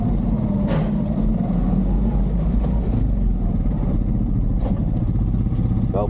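A Honda Pioneer 500 UTV pushes through fresh snow, its engine droning loud and steady close by, with a few clattering knocks from the machine along the way.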